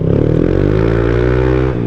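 A Yamaha Aerox SP scooter revs hard through a loud aftermarket exhaust pipe, giving a steady, close-up roar with a strong harmonic drone that holds and then eases off near the end.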